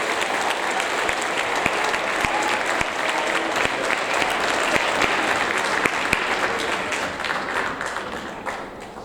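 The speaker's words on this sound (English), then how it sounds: "One more round of applause for all of them." Steady applause from a sizable crowd at a sixth grade awards ceremony, dense clapping that holds at a constant level throughout, with a few sharper claps standing out near the front.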